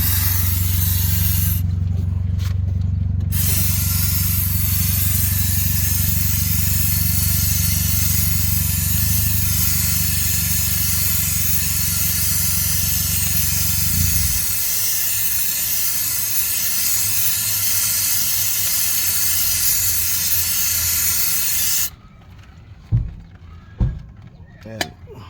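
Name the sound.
spraying brake cleaner on Ford Fusion transmission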